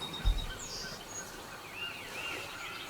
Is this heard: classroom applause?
no